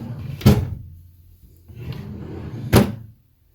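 Drawer of an IKEA three-drawer chest slid into place, giving two sharp wooden knocks a couple of seconds apart with softer sliding rumble between them, close and clear with no talk.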